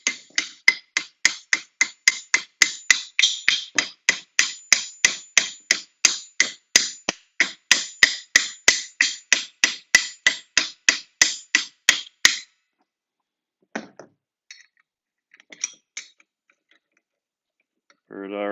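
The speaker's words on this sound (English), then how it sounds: "Using a hammer, just kind of lightly tap it in." A hammer lightly taps a bolt into a Demco tow bar, dozens of quick, evenly spaced metallic taps in a steady rhythm, close and crisp, then stopping, followed by a few faint clicks and scrapes.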